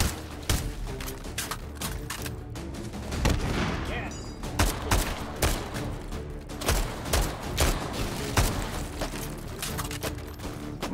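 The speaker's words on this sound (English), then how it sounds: "Suppressor's making it shoot terribly." Suppressed gunfire in the VR shooter H3VR, a rapid string of muffled shots landing in quick bursts and single pops over continuous game background noise.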